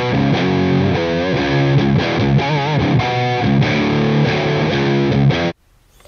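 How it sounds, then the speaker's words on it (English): Electric guitar played through a Pete Thorn PT100 amp with the preamp section switched off: a loud, saturated riff of sustained, shifting chords that rings steadily, then cuts off abruptly near the end. "Now you don't have a doubled up distorted guitar signal."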